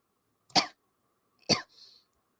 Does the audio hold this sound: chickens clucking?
no